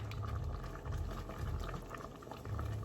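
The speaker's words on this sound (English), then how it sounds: "So you guys, this is at a boil." A pot of water at a rolling boil for rice and beans, with a steady bubbling and churning that swells and eases in low pulses, heard close and fairly quiet with no talking.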